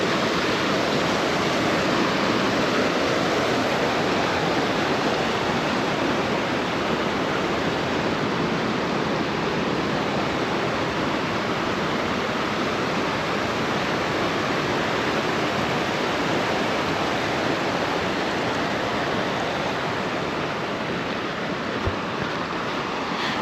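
River water rushes continuously along the Little River in Olympic National Park's rainforest, a dense, even roar of flowing water with no pauses and no voices.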